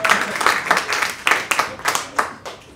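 A comedy club audience claps in a quick, uneven burst of distinct hand claps that rise and fall over a few seconds, close and moderately loud, with no voice over them.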